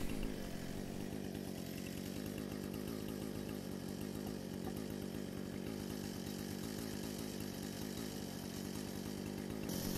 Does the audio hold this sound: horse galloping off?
no